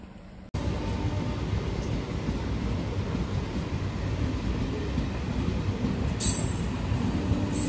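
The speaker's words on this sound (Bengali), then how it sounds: "আর একটুখানি ওয়েট করার পরেই আমাদের ট্রেনটাও" A Krishnanagar local train pulls out of Sealdah station, its steady rumble and rattling wheels loud and continuous after a brief quiet start, with a squeal near the end.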